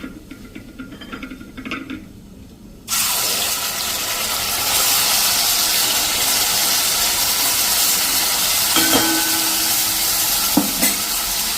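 Gravy poured into a hot tempering of cumin, asafoetida and black cardamom gives a sudden loud sizzle that continues as a steady, intense frying hiss with a few stirring scrapes, close and with no talking.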